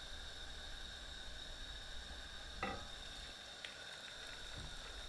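Breaded veal tenderloin piccata sizzles steadily in hot olive oil in a frying pan, a continuous close frying hiss with a brief clatter near the middle.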